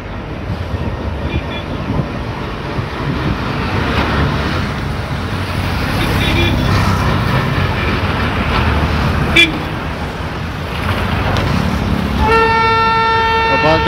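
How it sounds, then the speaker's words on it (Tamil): A passenger train pulling out of Mayiladuthurai railway station, its low steady engine rumble and rolling noise filling the platform, ending with a clear sustained horn blast near the close; someone talks over it. "ட்ரெயின் கிளம்பிடுச்சு."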